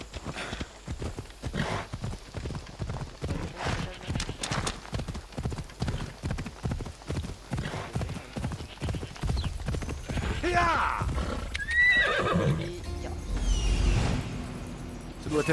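Horse hooves clip-clop in a steady galloping rhythm in Assassin's Creed Odyssey, then slow as the horse whinnies and snorts loudly near the end over rumbling game ambience.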